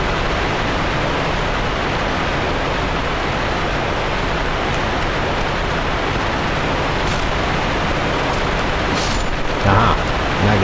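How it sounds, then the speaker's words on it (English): Constant heavy roar of a waterfall in Dark Souls 2, loud and broadband, with a few faint clanks and a brief louder thump near the end. "Waterfalls are known for being quite loud."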